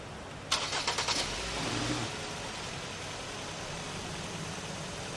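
A car with a hot engine, hooked to an RTI VCX-2 coolant service machine, cranks in several quick bursts, catches and settles into a steady idle, heard close with no talk over it.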